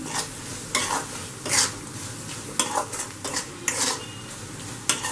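Spoon stirring coriander and turmeric masala in a pan for Kerala fish mappas, repeated scraping strokes at an uneven rhythm over a low sizzle, close and clear.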